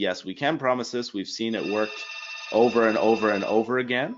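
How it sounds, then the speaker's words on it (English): An office telephone rings with a steady electronic bell tone, sounding through a pause in the talk, while a person speaks clearly in the foreground before and after. "Sorry about the phone there"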